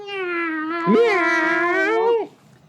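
A long, drawn-out meow that rises and wavers before cutting off, loud and close, heard on its own.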